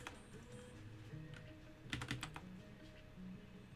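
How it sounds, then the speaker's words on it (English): Bursts of quick keystrokes on a computer keyboard, irregular and close, with a denser cluster of clicks in the middle, no talking over them. "why can't I type normally?"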